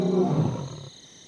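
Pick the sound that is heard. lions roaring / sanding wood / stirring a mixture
lions roaring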